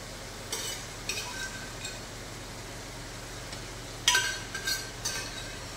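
Mutton head sautéing in a pan, a low steady sizzle under several sharp stirring scrapes and clinks of a spoon against the pan.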